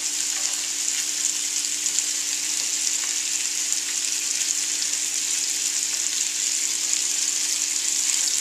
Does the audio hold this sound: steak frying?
yes